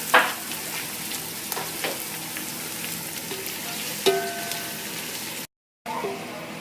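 Onion sizzles and crackles steadily in hot oil, a constant close frying hiss with a brief stirring clatter and a short break near the end.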